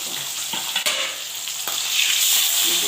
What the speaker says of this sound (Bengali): দেখেছো চটপট চটপট করে আওয়াজ হচ্ছে